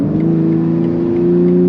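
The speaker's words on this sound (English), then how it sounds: "This car is so much fun to drive." A BMW M3 driving at steady speed, its engine holding a smooth, continuous hum with a strong low tone, heard from inside the cabin, loud and even with no talk.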